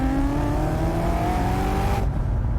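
A BMW E92 M3 with its V8 engine and manual gearbox revs up close, the pitch climbing steadily for about two seconds before cutting off abruptly, leaving a low idle rumble.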